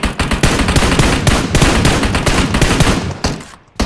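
Loud, dense bursts of automatic gunfire from PUBG Mobile, rapid shots overlapping in close succession for several seconds before a brief drop and a final crack.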